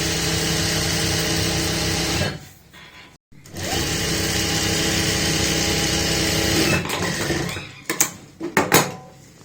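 A sewing machine stitches a gota patti border in continuous whirring runs, stopping briefly twice before restarting, then finishing with a few short bursts of stitching and handling noises.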